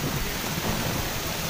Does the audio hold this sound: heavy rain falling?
yes